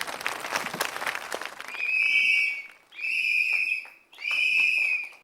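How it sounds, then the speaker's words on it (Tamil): Whistles blown three times in long, shrill bursts to give a verdict on a comedy stage performance, following a stretch of audience applause and cheering. "விசில்"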